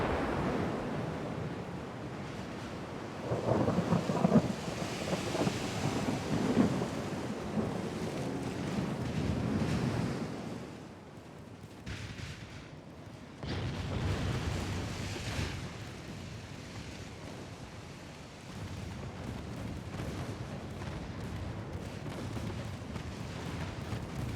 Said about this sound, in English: Sending some shells downrange.